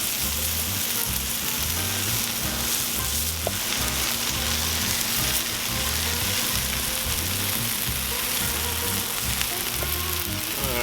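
Wagyu smash burgers sizzle on a Cuisinart 360 griddle, a loud, continuous close-up frying crackle with a few faint clinks and no talking.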